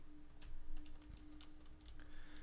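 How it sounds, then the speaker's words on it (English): Clackety computer keyboard being typed on for network commands, a quick irregular burst of crisp key clicks, fairly faint and close, with a steady low electrical hum underneath. "I'll switch over to my nice keyboard, and it'll sound clackety on the camera too"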